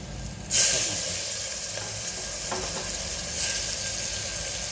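Tomatoes drop into a hot pan of spinach bhaji, setting off a sudden loud sizzle that settles into a steady, close frying hiss with faint stirring scrapes.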